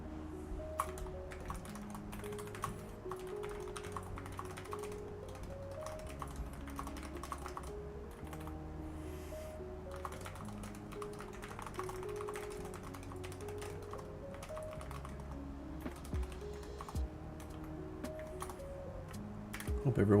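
Computer keyboard typing during a lo-fi card hangout live stream, with rapid close key clatter in irregular bursts running the whole way, faint music underneath.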